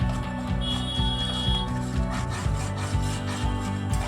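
Maida flour being stirred into oil in a pan for white sauce pasta, a steady scraping rub of the spoon in a regular back-and-forth rhythm with a faint sizzle underneath, no voices.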